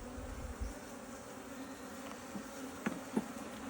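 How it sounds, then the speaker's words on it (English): Honeybees droning at an open hive on a cloudy day, a steady low hum that fills the clip, with a few brief sharper buzzes flying past near the end. "When it is a little bit cloudier out like this, more of the bees will be in the hive, which means there's more bees to get pissed off."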